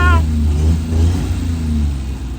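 An old car engine that sat for years runs rough, a loud close uneven rumble with wavering idle and a brief higher tone at the start.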